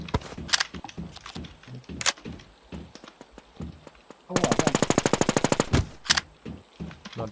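Loud gunfire from the shooting game NewZ: scattered single shots, then a sustained rapid automatic burst of around a second and a half, with players talking over and between the shots.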